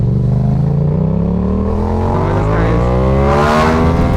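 A Yamaha motorcycle engine with no quick shifter pulls hard under a rider, its harmonic drone rising steadily through the revs before a brief shift and climb, loud and close throughout.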